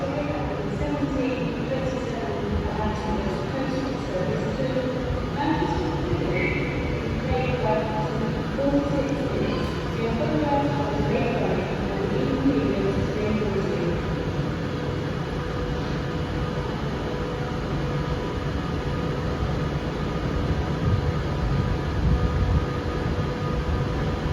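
A train rumbles steadily as it pulls away from Stoke-on-Trent station, a loud continuous roar of wheels and engine with no break for the whole stretch.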